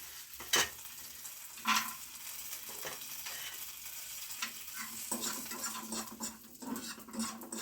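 Pistachios lightly roasting in a spoonful of ghee in a pan for methi laddoo, a gentle sizzle with scraping stirs and a few sharp spoon knocks.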